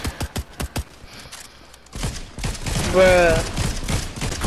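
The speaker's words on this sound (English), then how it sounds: "I hear gunshots." Rapid gunfire rings out in the Fortnite battle royale game, a quick string of five or so sharp shots followed by a dense, louder burst of firing, with a player's voice briefly over it.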